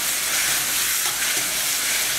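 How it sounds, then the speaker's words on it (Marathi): Garlic and ginger paste sauté in hot oil, a dense, loud, continuous hiss and sizzle with no pauses and no voices. "आणि ह्याच्यामध्ये आपल्याला घालायचं आहे 1 चमचाभर लसणाची पेस्ट, 1 अर्धा चमचा आल्याची पेस्ट आणि हे छान परतून घ्यायचं"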